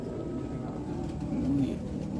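Pigeons cooing softly in a low, murmuring rumble, fairly faint amid background noise, with one brief clearer coo in the middle.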